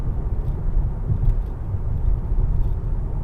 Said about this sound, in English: We're going over some bumpy roads. Let's check out the suspension.